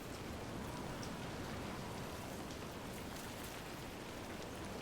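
Steady, faint rain in a video game makes a continuous even patter and wash with no breaks or voices.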